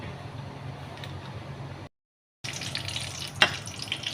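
Masala-coated fish frying in a pan with a steady hiss and crackle of hot oil, broken by a short silent cut before the sizzling resumes louder with a sharp pop.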